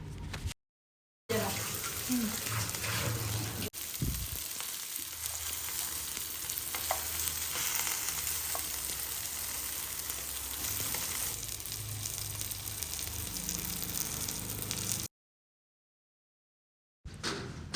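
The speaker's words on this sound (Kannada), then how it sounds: "ಫಸ್ಟ್ ಒಂದು ಪ್ಯಾನಿಗೆ ಆಯಿಲ್ ಹಾಕಿ ಇಲ್ಲಿ ನಾನು ಸ್ವಲ್ಪ ಕರಿ ಲೀವ್ಸ್ ಹಾಕ್ಕೊಳ್ತೀನಿ" Fish fries in oil with curry leaves, giving a continuous sizzle and crackle with light stirring. It is heard close and alone, with short silent gaps near the start and end.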